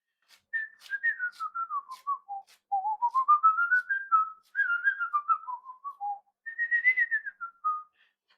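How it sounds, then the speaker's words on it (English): A man whistles a wandering melody of gliding notes in four phrases with short pauses, clear and close, alone without talk, in a kitchen while cooking Mexican sopa azteca. "My whistling."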